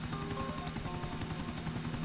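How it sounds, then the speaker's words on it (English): A helicopter in the video game GTA 4 drones steadily with rapid rotor thumping and a constant engine whine, a continuous mechanical throb with no speech. "he gets in your helicopter here"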